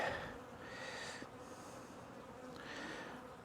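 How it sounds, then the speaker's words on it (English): Honeybees swarm thickly inside an opened hive box during a colony split, a dense, soft, continuous buzz that swells and eases with no voices over it. "there's a lot of bees in here"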